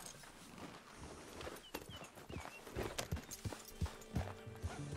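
Horse hooves clip-clop at a walking pace in Red Dead Redemption 2, a steady run of distinct hoof strikes on the ground growing louder and closer over a few seconds, with faint outdoor ambience behind.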